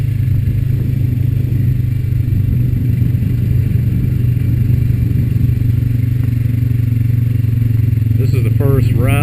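A Honda Rancher 420 ATV cruises along a farm trail, its engine droning loud and steady with low rumble and clattering from the rough ground, close up for the whole stretch.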